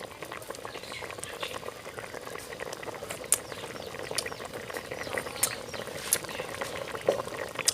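A pot of curry with frog bubbles at a steady boil, a dense close-up simmer of small pops and gurgles with occasional sharper bursts, no voices.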